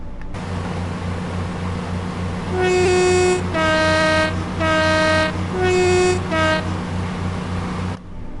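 A train in Train Sim World 2 on the Great Western Main Line accelerates with a loud, steady mechanical drone, broken midway by a series of sustained horn blasts in quick succession.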